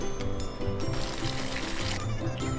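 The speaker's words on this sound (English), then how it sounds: "Now let's give plant number two some water." Water is poured onto a potted plant in a short, steady trickle and splash. It is heard close up over a faint tonal background, with no talking.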